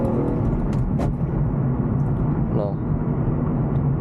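A 1998 BMW M3 accelerating hard in first gear, heard from inside the cabin as a steady, loud engine rumble and whir that stays constant throughout, with brief faint clicks and a rising tone near the end.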